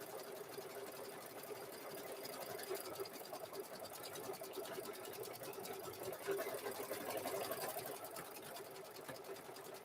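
Continuous close stitching from a sewing machine sewing a hoodie, a steady buzzing whir that holds at an even pace throughout with no pauses.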